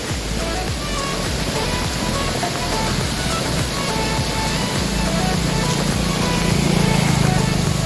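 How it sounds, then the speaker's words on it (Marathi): Steady, dense rushing water from mountain waterfalls in the Sahyadri range near Ghatghar, pouring continuously, loud and close, with no breaks throughout. "वाहणारे हे सर्व धबधबे"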